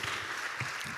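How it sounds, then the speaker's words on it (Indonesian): A church congregation applauds, a brief, dense wash of clapping at moderate distance with no other sound breaking through. "Kasih tepuk tangan buat Tuhan Yesus."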